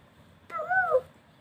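A child imitates a cat with a single short meow, rising then falling, sounding close and alone against a quiet background.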